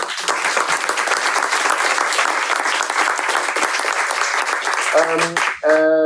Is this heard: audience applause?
yes